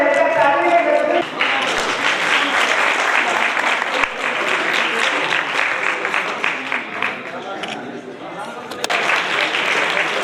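Sustained audience applause at a Kayamganj jayanti celebration in honour of Shri Santram B.A. Prajapati, a dense wash of many hands clapping steadily for about ten seconds after a brief opening of voices.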